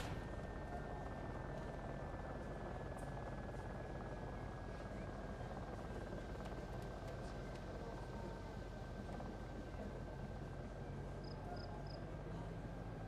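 An aircraft flies over the desert setting of the Arma game mode Takistan Life, with a steady rotor-like drone and a faint whining tone that holds at an even, distant level throughout.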